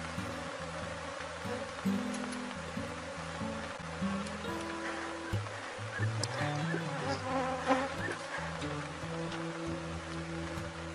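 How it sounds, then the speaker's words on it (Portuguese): Swarm of honey bees flying all around the hives, a steady layered buzzing drone at moderate loudness that shifts in pitch as insects pass close, continuous throughout. "Enxames assim, gente, que voa muitas abelhas para todo lado"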